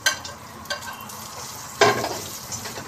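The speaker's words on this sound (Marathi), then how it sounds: "कढीपत्ता पण व्यवस्थित भाजून घ्यायचा" Curry leaves roast in a pan with a soft sizzle and a few brief scraping stirs, one sharper burst near the middle, close and fairly quiet, for a sprouted moong curry.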